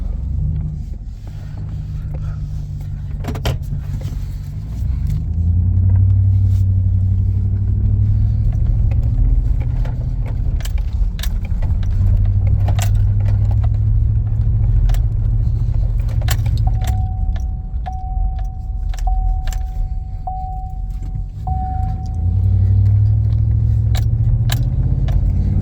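A stock pickup truck drives along a road, its low engine rumble and tire drone steady and close, with cabin rattles and jangling keys; no one speaks.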